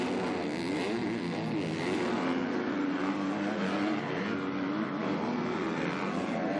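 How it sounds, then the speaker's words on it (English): A Kawasaki MX2 motocross bike revving hard during a FIM Motocross World Championship race in the Czech Republic, a loud, dense, continuous engine roar that holds steady throughout. "Sterry revving the absolute wheels off of that Kawasaki as he goes through the final dip towards the finish line"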